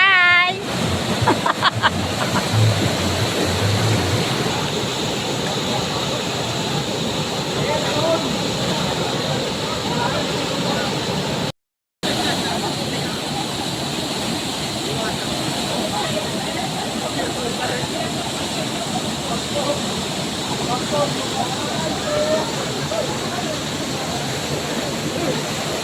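Sprite Falls pours down in a constant, loud roaring rush of falling water with wind buffeting the microphone, steady for the whole stretch apart from one brief dropout, with no clear talking.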